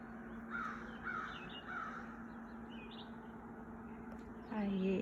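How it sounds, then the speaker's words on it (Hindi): A black crow caws several times in the distance, short hoarse calls spaced a second or so apart over a low background hum, with a louder close voice-like sound near the end. "काला कौवा"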